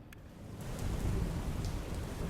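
Heavy monsoon rain pours steadily across Valsad district, a dense close hiss of downpour swelling slightly louder midway, with faint thunder-like rumble underneath and no voices.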